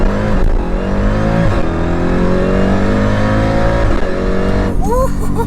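A built Jeep Trackhawk, tuned to around 1000 hp, accelerates hard in first gear, its loud engine roar climbing steadily in pitch and dropping briefly near the end before the shift.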